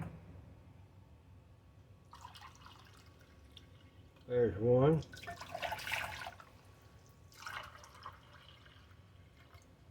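Warm water poured by the cupful in a home kitchen while making a sourdough starter, a short bubbling gurgle of liquid filling a measuring cup, close, between stretches of a person talking.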